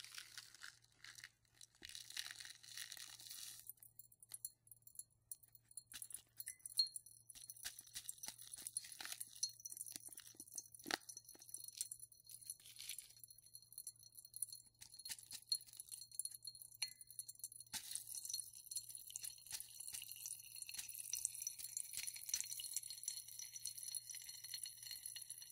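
Pop Rocks candy popping in water: dense crackling and fizzing pops spread across the clip, with occasional sharper snaps standing out from the steady sizzle, close and fairly quiet.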